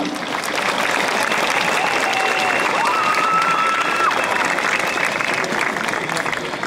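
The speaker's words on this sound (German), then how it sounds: "nochmal einen Applaus für euch selber, beklatscht euch mal" A large crowd at an Article 13 street protest in Cologne claps steadily and loudly throughout, a dense continuous wash of applause filling a big space.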